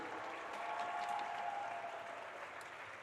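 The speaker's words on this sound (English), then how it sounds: "Big round of applause for Kayla Suiters." Spectators at a girls' high school hockey game applaud a player introduced before the match, sustained even clapping filling the rink, with a faint tonal hum beneath.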